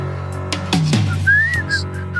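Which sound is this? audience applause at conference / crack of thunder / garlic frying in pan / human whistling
human whistling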